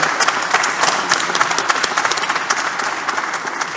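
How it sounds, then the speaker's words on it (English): A courtroom audience at a name unveiling ceremony at DC Superior Court applauds, with close, crisp clapping that stays fairly even and tapers slightly toward the end. "Let's clap again."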